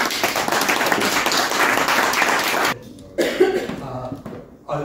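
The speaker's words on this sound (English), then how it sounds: "Let's give a round of applause to Raina." Audience applause at a public forum on the 2023 Voice Referendum, loud dense clapping for about three seconds, then cutting out into near silence with a brief renewed burst.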